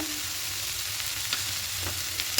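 Red amaranth leaves stir-frying in a pan with salt and a little sugar, a steady close sizzle with faint scraping stirs, no talk.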